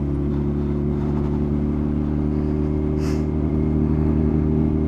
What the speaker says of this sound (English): Got an SC Projects can on it, it's way too loud.